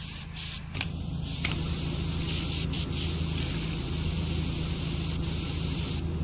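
Turbo beam cleaner in PowerWash Simulator, a continuous loud hissing spray of water starting after a brief pause and running steadily with no talk.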